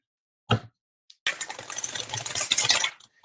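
A deck of tarot cards is shuffled up close, with a short riffle followed by a longer, dense run of papery flutter that ends abruptly.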